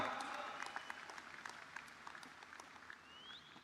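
Applause from an audience honoring Ansor and Banser cadres at a Gerakan Pemuda Ansor gathering, a steady wash of clapping sustained for several seconds, fairly faint and distant, with a voice speaking over it.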